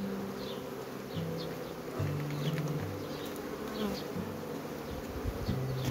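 Honey bees hum steadily at a hive during feeding of starving colonies, a close, dense drone with individual insects rising and falling in pitch as they fly past, no voices.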